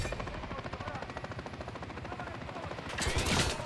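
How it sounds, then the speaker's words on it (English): Mounted machine gun on an armored vehicle in Modern Warfare III fires steady rapid bursts under the thudding of a helicopter rotor, dense and continuous, swelling louder near the end with a heavier blast; faint voices mix in. "John got a mounted MG coming your way on an armored vehicle"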